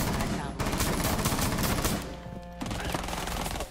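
Video-game gunfire rattles in rapid automatic bursts, close and loud, with a brief lull partway through before the shooting picks up again.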